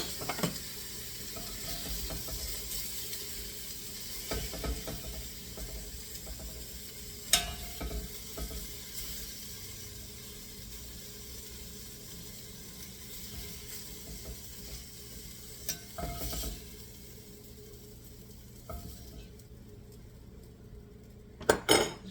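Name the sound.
pork browning in a pan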